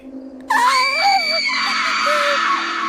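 A woman in a horror story scene lets out a loud scream. The high, wavering shriek bursts in sharply and holds for a couple of seconds, alone and without talk.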